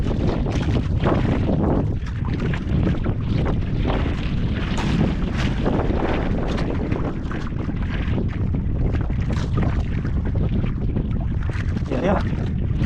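A small wooden boat out on open water, with a continuous loud rush of wind and water noise against the hull for the whole stretch.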